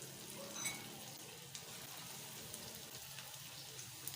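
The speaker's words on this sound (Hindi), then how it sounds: "अब इसको फ्राई कर लेंगे" Chicken pakora frying in hot oil, a second batch sizzling and crackling in a steady fine hiss with scattered pops, fairly quiet and uninterrupted.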